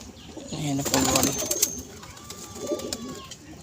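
Pigeons at a home loft, including two young birds, give low, throaty coos in the first half, close by, with faint voices and light rustling in the background.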